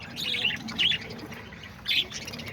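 Caged parakeets, lovebirds and cockatiels chirp and squawk in a few bright bursts of tweeting over a constant low background hum, close by and fairly loud.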